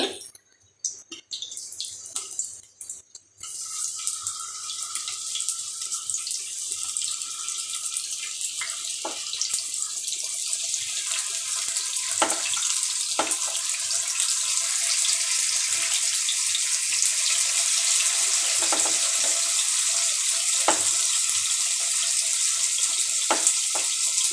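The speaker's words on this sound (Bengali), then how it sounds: "তেল গরম হয়ে গেছে, এখন আমি চিকেনগুলো দিয়ে দিচ্ছি।" Chicken pieces dropped into hot oil for a chicken and pea curry set off a loud, hissing sizzle after a few opening clatters. The sound builds and then holds steady, close and without speech.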